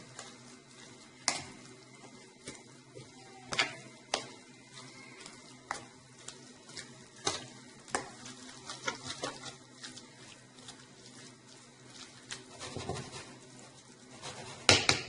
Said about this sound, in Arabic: طبعا هرسنا معه حبتين ثوم. بعدين نخلط.